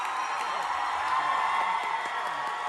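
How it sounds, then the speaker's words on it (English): At a tour concert at The Wiltern, the crowd roars and cheers steadily during the group's final goodbye. The sound is a continuous wash of distant screaming with no single voice standing out. "You can just hear the crowd going crazy."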